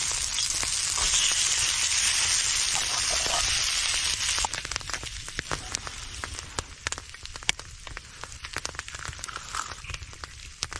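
Frozen corned beef hash fries in a non-stick pan at an outdoor camp in the snow. A dense, loud sizzle runs steadily at first, then thins into crackles and pops.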